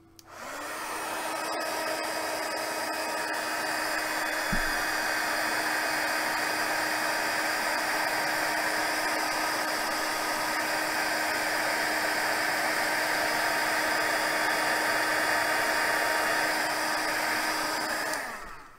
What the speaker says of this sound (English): Let me heat my gun again.